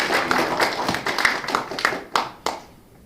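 Applause from a small audience at a youth party members' tea meeting in Busan, greeting former Prime Minister Hwang Kyo-ahn: scattered claps that thin out into a few separate, louder claps and then stop.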